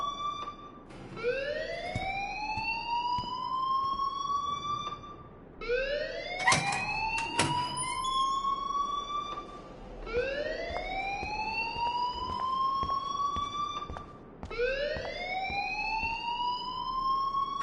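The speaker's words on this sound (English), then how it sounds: "please turn off that alarm since that's your job." Four rising wails of an alarm siren in a video game repeat in a steady cycle about every four seconds, loud and continuous, with brief clicks between them.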